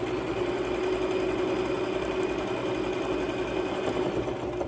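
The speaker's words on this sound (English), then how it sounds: "I'm just going to sew until I reach that" A sewing machine runs steadily, stitching fabric for a log cabin pillow, its motor whirring in an even, continuous buzz close by with no pauses.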